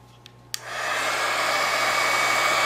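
A heat tool switches on after a couple of faint clicks and blows a steady, loud whooshing stream of hot air while lipstick is warmed up.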